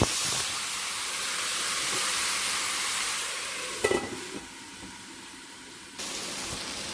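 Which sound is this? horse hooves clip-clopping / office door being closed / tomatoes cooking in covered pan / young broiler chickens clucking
tomatoes cooking in covered pan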